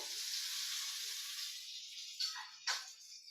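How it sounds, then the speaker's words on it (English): Oven-roasted carrots fresh from a hot oven give off a steady, close broadband sizzle, with a couple of brief louder crackles near the end and no talking. "You can hear them sizzling."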